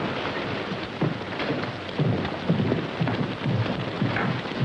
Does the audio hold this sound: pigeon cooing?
no